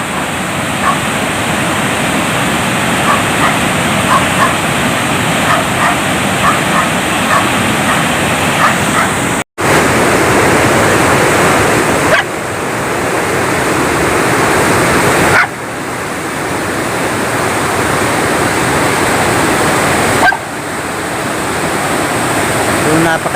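Floodwater of a swollen, overflowing river rushing past a flooded bridge, a loud, steady broadband roar filling the whole stretch, with a brief dropout and a few cuts where the level shifts slightly.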